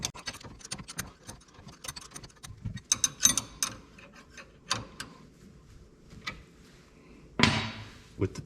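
A 12mm ratchet wrench snugging down brake bolts on a FFR MkIV Roadster brake upgrade: rapid repeated ratchet clicks in bursts, close and moderately loud, with scattered metallic taps and a louder rattle near the end.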